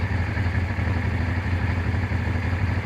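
A Honda XL 600 V Transalp motorcycle over thirty years old, with serviced valves and carburettors, idles close by with a steady, even low throb and a little mechanical clatter, holding constant revs throughout.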